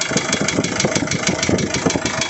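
An Isuzu 4JH1 diesel engine with a crankshaft or crank pin fault knocks hard at idle, a loud close rapid metallic rap repeating evenly over the engine's running drone.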